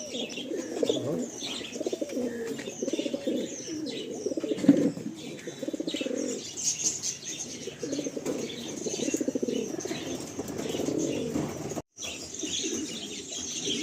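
Andhra pigeons being released at a loft in Kolkata, low soft cooing repeated throughout with bursts of wing flapping and occasional chirps, fairly faint and close, with no talking.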